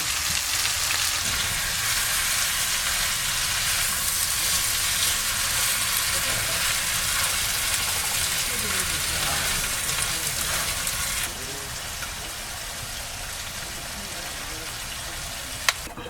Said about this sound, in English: Add my shrimp.